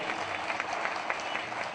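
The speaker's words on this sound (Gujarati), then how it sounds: "સ્વામીને આપણે તાળીઓના નાદથી વધાવીએ" Audience clapping for a swami at a Dwistabdi Mahotsav religious gathering in Udhna, a steady dense patter of many hands filling the whole stretch at moderate level, with a faint voice underneath.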